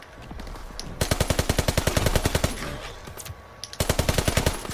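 Ribeyrolles automatic rifle firing in Call of Duty WWII multiplayer, loud steady bursts of evenly spaced shots at a moderate rate, with a brief pause before another burst.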